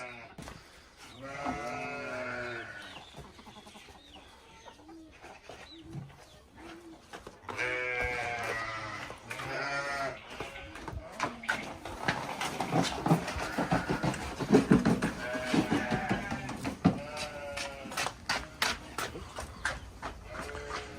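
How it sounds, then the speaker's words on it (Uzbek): A flock of sheep kept at a home farm bleats repeatedly during feeding time. The calls overlap, some near and loud, others fainter, with scattered farmyard noise between them. "Mana qo'ylarimiz"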